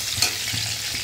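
Bay leaves, dried red chillies, cinnamon sticks and cardamom pods sizzle steadily in hot oil for a Bengali chana dal dish, a continuous close crackle with a slightly sharper spatter near the start and no talking.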